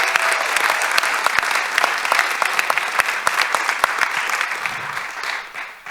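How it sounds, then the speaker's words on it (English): A school-foundation event audience breaks into a round of applause for superintendents, dense and steady clapping that fills the room from start to finish, easing slightly near the close. "Let's give a nice round of applause."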